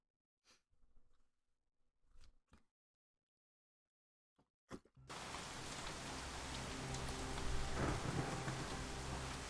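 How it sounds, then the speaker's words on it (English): A sparse patter of drops breaks into a loud, dense downpour with thunderous rumble, a deafening storm at the Taipo dock in the game Shadowrun: Hong Kong, steady and enveloping with no speech. "Cold rain lashes your face as you take your place in the Taipo dock. The storm is loud, practically deafening."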